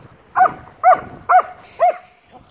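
A dog barks four times in an even rhythm, loud and close, with a faint fifth yelp at the end against a quiet outdoor background.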